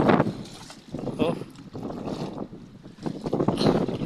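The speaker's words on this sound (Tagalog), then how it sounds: "Mahangin talaga mga kaidol, maalon." Strong wind buffeting the microphone in surging gusts, with rushing water and waves around a small boat, rising and falling over several seconds.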